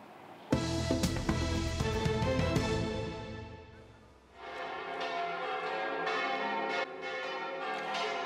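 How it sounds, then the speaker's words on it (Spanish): Burgos Cathedral bells in Spain peal loudly with dense overlapping clangs, ringing on and on, briefly thinning before a fresh burst of tolling resumes. "Es el repique de campanas de la Catedral de Burgos, que cumple hoy 8 siglos de historia"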